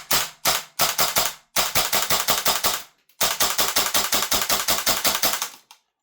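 WellPro AK12 gas blowback airsoft rifle firing loud, sharp mechanical shots, first in quick bursts of single shots and then in two long, rapid full-auto strings separated by a brief pause, with no talking.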